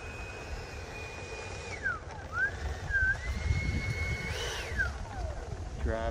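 An E-flite F-16 80mm electric ducted fan RC jet, fitted with an FMS 80mm Pro 3665 2000KV fan unit, taxis with a steady high whine that sweeps down and back up in pitch as the throttle changes, over outdoor background noise.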